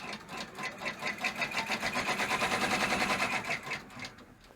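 An embroidery machine stitches an in-the-hoop gnome design, its needle beating in a fast, steady mechanical rhythm that swells louder through the middle and eases near the end, close up with no talking.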